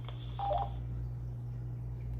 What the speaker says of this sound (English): let you hear the ringer on this phone